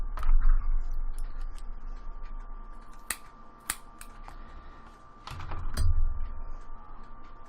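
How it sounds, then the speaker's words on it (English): Scissors snip through cotton wick while a rebuildable vape coil is being built, with a few sharp clicks and cuts spread over several seconds against a steady low hum and some handling noise, close by and moderately loud. "Scissors."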